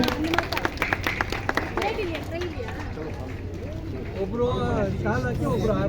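An audience at an International Women's Day award function applauds Dr. C. Sampath, a burst of crowd clapping that fades into babble and an amplified voice.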